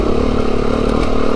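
Beta 390RR dirt bike engine on an icy winter trail ride, a loud, close, continuous mid-pitched engine drone with faint clatter and scraping, with no pauses or gear changes.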